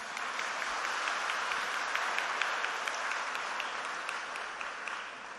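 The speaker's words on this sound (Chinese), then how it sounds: "大家都不由自主地给习近平总书记这一句话鼓掌" Lecture audience applauding a quoted remark, a steady dense wash of many hands clapping at moderate distance, sustained evenly with no talk over it.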